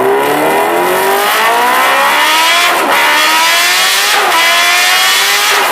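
A Kawasaki H2R motorcycle engine screams loudly at high revs, its pitch climbing repeatedly through rapid gear shifts, close and intense throughout.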